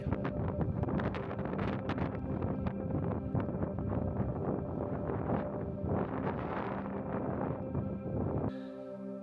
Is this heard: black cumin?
no